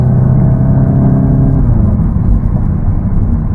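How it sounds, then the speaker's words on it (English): A VW Golf GTI Clubsport 45 anniversary edition in sport mode, heard from inside while driving: loud, steady low engine and exhaust drone with a slight shift in pitch partway through, no talking. "hopefully I'll be able to hear a bit more of the pops and bangs from the exhaust system."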